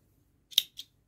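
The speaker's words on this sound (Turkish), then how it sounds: "Bir zincir çekiyorum ve ipimi kesiyorum." Two quick close snips of scissors cutting crochet yarn, the first sharper and louder, the second lighter, heard alone in a quiet room.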